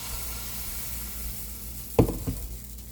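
Batter poured into hot oil in a pan for paneer chilla, a steady low frying hiss swelling into a brief louder sizzle burst near the end, close and alone without talk.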